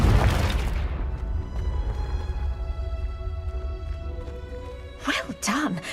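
A Confringo spell explosion in Hogwarts Legacy opens with a loud booming burst, then decays into a long ringing tail, with brief voices at the end.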